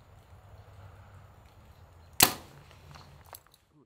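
Arrow loosed from a hunting bow, a single sharp snap and whoosh breaking a quiet outdoor background, followed by a faint thud shortly after.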